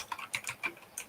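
Rapid keystrokes on a computer keyboard while entering network switch VLAN configuration commands, a close, uneven burst of light clicks with no talking.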